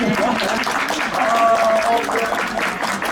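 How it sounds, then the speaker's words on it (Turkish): Applause from a crowd at a public event in Turkey, a steady wash of clapping lasting about three seconds, with voices talking and calling over it throughout. "Başkanımız bir alkış hak ediyor değil mi?"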